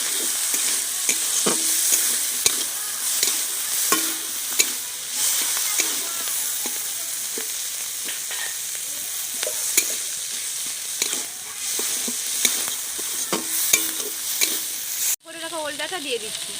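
Chopped onions hiss and sizzle loudly in a hot pan, already holding fried food, with regular scraping strokes as they are stirred, ending in a brief pause and a short burst of speech.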